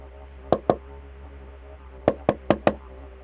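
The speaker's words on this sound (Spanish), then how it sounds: "Tocaron la puerta." Knocks on a house door: two sharp raps, a pause, then four more evenly spaced, monotonous and controlled, close and clear against a quiet room with a faint low hum.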